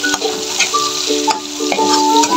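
Meat and garlic sizzle and spatter in hot oil for a shrimp-paste (alamang) dish, a steady close crackle broken by a few sharp clicks of a utensil against the pan.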